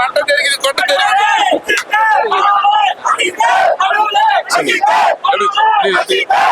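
A cinema crowd of fans at a Mankatha re-release screening shouts and cheers loudly in repeated bursts of yelling and whooping, close and energetic, with overlapping voices throughout.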